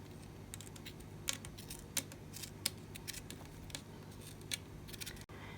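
Scissors slice through heat-softened material for a DIY wedding topiary, giving a series of short, crisp snips spaced irregularly over a steady low background hum.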